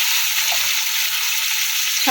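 Boiled lentils hit hot fried tempering in a pan, giving a steady, close hiss of sizzling oil that runs evenly throughout with no voices.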